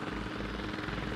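A military helicopter flies in the Arma Reforger video game, giving a dense, continuous rotor drone with rapid blade thumps. The drone stays steady and fairly loud throughout, with no talk over it.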